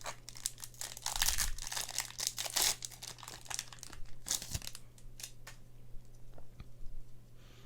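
Foil Magic: The Gathering Throne of Eldraine draft booster packs being torn open and handled, with loud crinkling bursts, several sharp rips, and quieter rustling between, close by and without talk.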